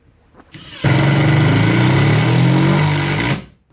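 A Makita XDT15 sub-compact impact driver in automatic mode drives a 6-inch structural screw. After a brief soft start, it breaks into loud, continuous rapid hammering for about two and a half seconds, then stops.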